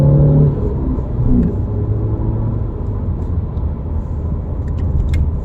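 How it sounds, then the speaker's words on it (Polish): BMW 3 Series E90 car accelerating from a red light up to second gear, heard from inside as a steady low engine rumble and whir that builds gently, with no talking over it. "pokażę Wam tak, jak on się zbiera, chociaż do dwójeczki"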